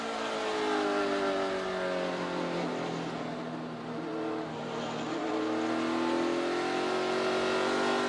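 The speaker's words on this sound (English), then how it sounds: "Listen how low the RPMs get in the middle of the corner." A NASCAR Xfinity Series race car on worn-out tires at Richmond Raceway drones through a corner, engine pitch sagging low mid-turn and then climbing again, a steady loud onboard rumble with no voices.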